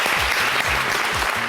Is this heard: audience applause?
yes